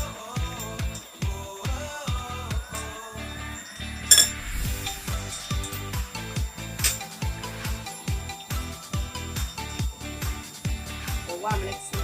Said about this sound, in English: Just use fork to separate it.